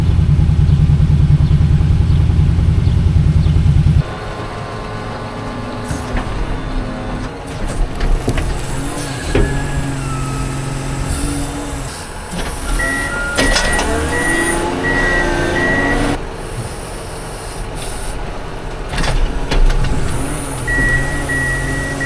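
A semi truck delivers hay on a farm, its engine rumbling loudly at first, then idling under varied mechanical clatter with a repeating reversing beep in the middle and later part.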